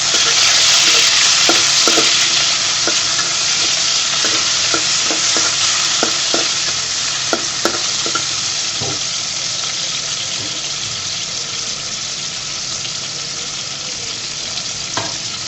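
Tomatoes fry in hot oil for a fish and potato curry, a loud continuous sizzle punctuated by repeated spoon clacks and stirring scrapes that thin out toward the end while the frying hiss keeps going.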